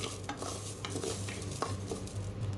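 Nylon sago dry-roasted in a pan over medium heat, stirred continuously with soft scraping and light rattling of the pearls against the metal, close and steady with no voices.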